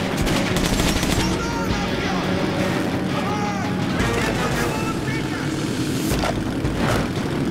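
Gunfire from a Metro Last Light Redux firefight, continuous and dense throughout, mixed with game effects and ambient noise; a voice talks over parts of it.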